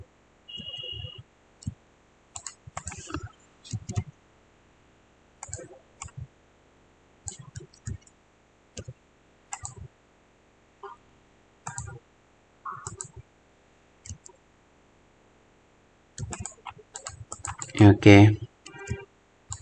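Sparse computer mouse clicks come in short scattered bursts during PCB layout work in KiCad, close and crisp against near silence, with a speaker talking briefly between them.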